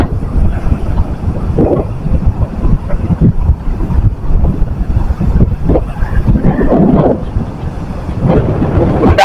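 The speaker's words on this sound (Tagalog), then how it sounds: "Parang sumisipol sa lakas ng hangin." Strong wind buffeting and roaring continuously, with gusty low rumbles and occasional whistling swells rising over the steady blowing.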